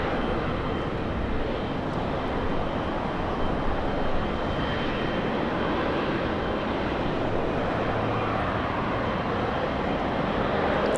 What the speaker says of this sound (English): We have an Airbus A380.